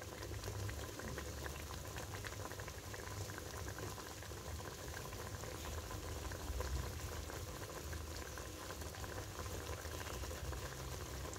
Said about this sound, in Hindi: तो अभी इसे अच्छे से मैं उबाल लूँगी।